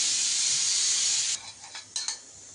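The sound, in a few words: stuffed chillies frying in oil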